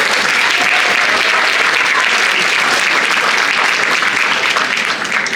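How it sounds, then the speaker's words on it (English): Loud, dense audience applause at a speech night fills the whole stretch with steady, unbroken clapping and no pauses. "Give a big round of applause."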